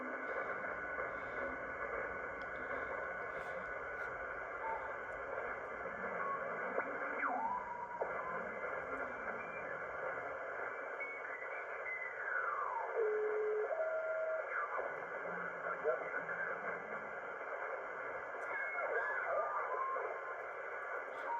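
A Ten Tec Omni 6 radio receiver picks up signals as a steady wash of band noise, with faint whistling tones that drift and slide in pitch throughout.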